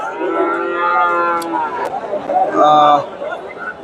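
Friesian bulls moo at a busy outdoor cattle market in Bogura, Bangladesh, with loud, drawn-out lowing close by, one call and then another, over a background of crowd chatter.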